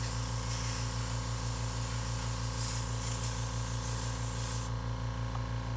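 An airbrush sprays white paint onto a skateboard, a close, continuous airy hiss over a steady low compressor hum, easing off near the end.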